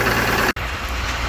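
A big farm tractor engine idles just after a cold start, giving a steady low rumble outdoors with one very brief dropout midway, and no talk.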